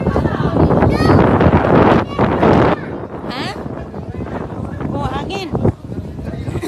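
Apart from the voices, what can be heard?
wind blowing into the microphone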